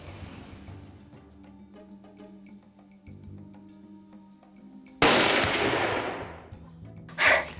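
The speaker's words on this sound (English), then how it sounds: "That was a great shot, Vanessa." During a deer hunt, a single loud rifle shot cracks out of quiet outdoor background and trails off in a long, fading echo, followed moments later by a brief noise.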